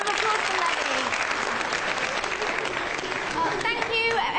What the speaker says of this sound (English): Round of